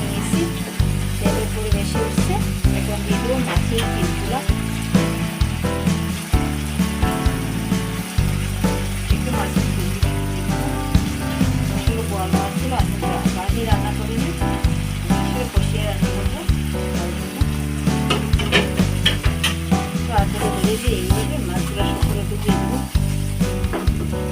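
Spice paste with ground coconut paste fries in a pan for a boal fish curry, a steady close sizzle broken by regular scraping stirs, with no voices.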